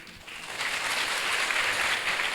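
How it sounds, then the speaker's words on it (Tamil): Audience applause at an inter-school quiz competition, a broad steady wash of clapping that swells after a brief start and holds loud and dense throughout, with no voices over it. "கரகோஷத்தை தாருங்கள்."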